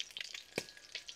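Eggs fry in a pan with spices such as turmeric and red chilli powder. There is a faint, soft sizzle with light crackles and one brief louder burst of spattering.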